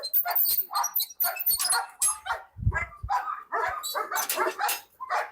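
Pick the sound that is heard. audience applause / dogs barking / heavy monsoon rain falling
dogs barking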